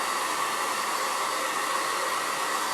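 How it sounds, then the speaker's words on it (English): Steady, close hair dryer blowing without a break to dry white paint on a wooden surf club flamingo board, a constant broadband whoosh with no talking. "I'm going to blow dry it"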